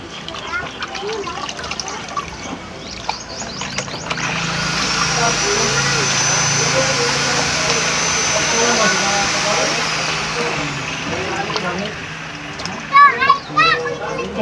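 Something is being washed for a second time, with water swishing and splashing near the microphone amid a steady running-water rush, while people talk and a voice is heard.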